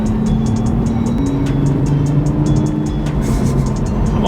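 Toyota Mark V Supra driving fast on a wet road in the rain, a close, steady engine drone with rising pitch and tire hiss, punctuated by regular ticking clicks, with no talking.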